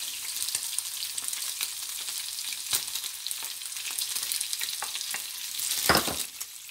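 Chicken breast frying in oil as onion goes in, a dense continuous sizzle with scattered pops and crackles, one sharper burst near the end, heard alone without speech.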